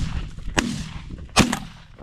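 Two sharp shotgun blasts ring out during a pigeon hunt near Marneuli, spaced under a second apart, with a fairly close, punchy report over quiet outdoor background.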